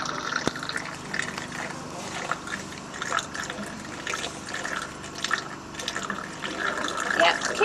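Liquid is poured steadily down a tube, a continuous gurgling, splashing flow with small drips and bubbling air. It is close and fairly loud, with faint voices underneath.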